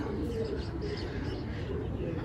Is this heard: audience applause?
no